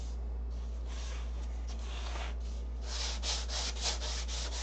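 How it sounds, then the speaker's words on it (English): Sandpaper rubs back and forth over wood on the underside of a model build, dragging across spots of hardened CA glue, soft close scratching strokes over a constant low hum, growing brisker toward the end. "I'm sanding flats into this right now."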